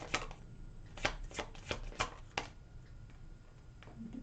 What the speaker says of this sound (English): let me take out the rest of the cards that we need for Capricorn's reading here